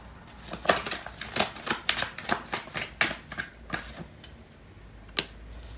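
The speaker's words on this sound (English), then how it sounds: "I'm going to pull out a card for" Tarot cards shuffled by hand, a close series of quick, crisp riffles and flicks in uneven rhythm, then a pause and a final single snap as a card is drawn from the deck.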